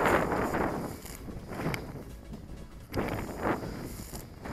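Strong gusty wind buffeting the microphone at an outdoor drone flying session, rising and falling in broad rushing surges with no other clear sounds.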